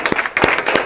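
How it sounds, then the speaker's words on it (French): An audience claps at the end of a televised pageant show for a national holiday, giving a short burst of dense, close applause with a few sharper individual claps standing out. "Allez, applaudissez-moi aussi, hein,"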